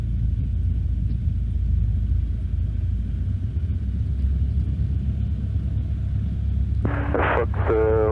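Light aircraft engine running steadily at low power while taxiing to the runway 29 left holding point at Saint-Cyr airfield, a continuous low rumble throughout with a short burst of radio or cabin speech near the end.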